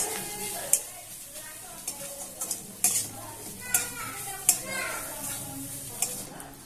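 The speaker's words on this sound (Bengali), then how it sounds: "নারকেলটা আমি একটু বেজে নিচ্ছি তাহলে একটু নারকেলের ভাজা ভাজা গন্ধটা হবে" Grated coconut fries in hot oil in a pan, making a soft continuous sizzle under repeated spatula scrapes and bright metallic clinks against the pan.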